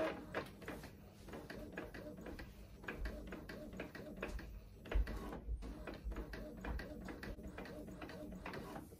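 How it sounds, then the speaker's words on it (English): An Epson EcoTank printer running a sublimation print, with repeated mechanical clicks and ratcheting as the print head shuttles back and forth at a slow, even pace, heard close up with a faint voice in the background. "And it's printing."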